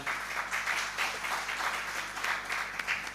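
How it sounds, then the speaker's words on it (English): An audience applauds panelists at a forex bureau association's anniversary event, a soft, steady wash of clapping heard from a distance in a large room, with a low hum underneath. "give the panelists a round of applause"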